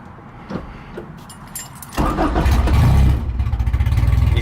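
A Chevrolet S10 with a 5.3 engine cranks and fires after some faint clicks and rustling, then settles into a loud, low, lumpy idle with an uneven pulsing rhythm, close up and without talk.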